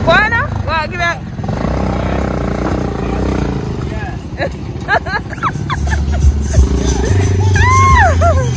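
Small engine on a homemade motorized handcart with a solar panel, running and revving on a Jamaican road, with people talking and shouting loudly over the steady engine drone throughout.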